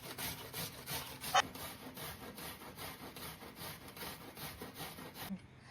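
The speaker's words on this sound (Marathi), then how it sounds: "इथे आपण एक कांदा किसून घेतोय" An onion being grated for Malvani kombdi vade dough, a rhythmic series of quiet scraping strokes, about two per second, close and faint, ending abruptly.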